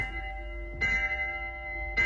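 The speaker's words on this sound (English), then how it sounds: "Is Kazzy ringing a bell?" A bell rings twice at a steady interval, each strike bright and ringing on over a low background hum, with no voices.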